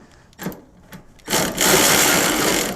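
A Toyota 4Runner's spare tire winch is cranked down with a 3/8 inch extension, a few soft clicks followed by a loud, continuous ratcheting grind close by.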